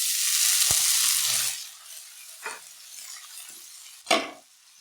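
Onions and tomatoes sautéing in a pan, a loud hiss at first that quickly dies down to a faint sizzle, with a few sharp spoon scrapes and clinks against the pan.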